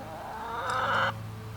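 Chickens cluck nearby in a garden, a short drawn-out squawk rising over a steady low background hum.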